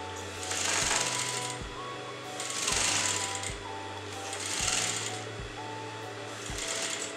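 A domestic sewing machine runs in repeated bursts, stitching back and forth to lock a tassel onto a crop top. Each whirring run lasts about a second, separated by short pauses and clicks, heard close up with no talking.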